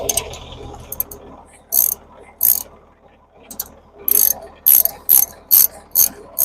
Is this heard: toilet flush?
no